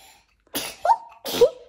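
Two quick sneezes right up close, each a sharp burst ending in a short voiced tail.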